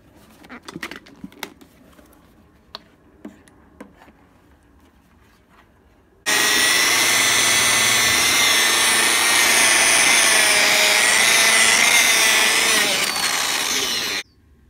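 A power polisher runs steadily for about eight seconds while putting polish on a faded car headlight, loud and close. Before it starts there are a few scattered handling clicks and taps.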